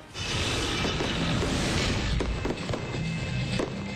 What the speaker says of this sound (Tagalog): Makulay at talaga namang kamangha-mangha ang fireworks display